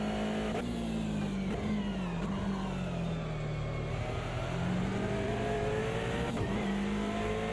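Aston Martin race car in a racing video game, its engine droning loudly and continuously with pitch sweeping up and down through gear changes, alone without talk.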